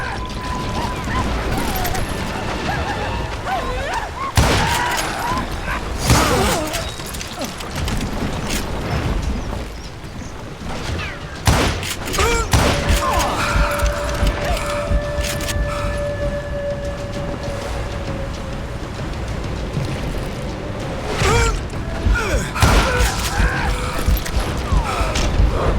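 A gunfire shootout in the Call of Juarez Gunslinger video game: scattered sharp, loud shots and bursts stand out against a constant wash of game noise and tones, with some voice activity mixed in.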